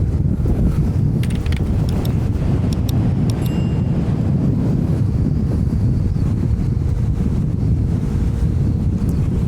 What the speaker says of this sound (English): It's wind, man.